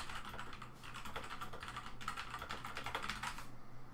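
Rapid, close keystrokes on a computer keyboard while code comments are written, clicking in quick bursts with brief pauses and falling quiet near the end.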